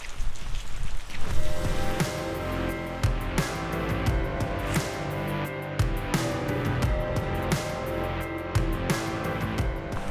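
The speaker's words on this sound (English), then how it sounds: "it's still raining" Steady rain falls on a village in Kumamoto, Japan, a dense even patter of drops on surfaces that carries on throughout with no voices.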